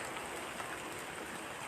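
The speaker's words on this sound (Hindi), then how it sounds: "अभी तक बारिश चल रही है" Steady rain falls outdoors on an afternoon, a dense, even hiss of drops on surfaces that stays constant throughout with no voices.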